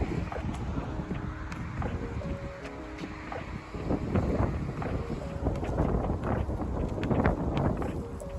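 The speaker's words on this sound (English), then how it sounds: "It is extremely windy out here." Strong wind buffets the microphone outdoors with a constant rumbling roar and gusty bursts, loud throughout with no talking.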